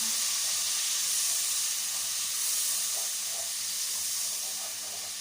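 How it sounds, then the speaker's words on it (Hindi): Tomatoes and green chilies frying with onions in a pan, a steady soft hiss and sizzle running evenly throughout without any clear breaks. "अब हम इसके अंदर टमाटर और सब्ज़ मिर्च डालेंगे और इसको तब तक पकाएंगे"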